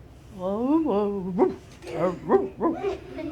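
A storyteller's voice imitates a dog barking, giving a few rising, yelping woofs in a row, close and loud, as part of a spoken children's story.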